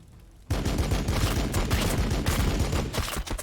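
Units open fire in the Warhammer 40k Battlesector strategy game. After a brief quiet start, a loud, sustained volley of rapid gunshots follows, close and continuous, with no talking.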